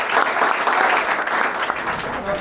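Church congregation applauding for a pastor: dense, steady applause from many hands filling the room at a constant level throughout, with no voices standing out.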